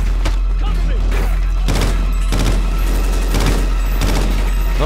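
Gunfire in the shooter game Call of Duty: Ghosts comes as loud bursts of rapid shots, several clusters of cracks and booms repeating over a constant low hum.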